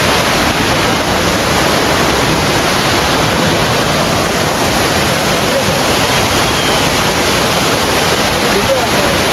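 Bheeman Falls in the Jawadhu Hills roars as a steady, loud wash of falling water, dense and unbroken throughout, heard close up with no clear voices over it.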